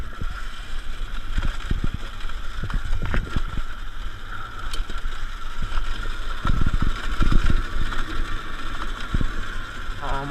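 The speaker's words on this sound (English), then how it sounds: "I'm full throttling it and I'm not going anywhere" A Sur Ron Light Bee electric dirt bike with a Kaniwaba power pedal kit ridden at full throttle on a trail, a steady whine under wind rush with scattered knocks and bumps.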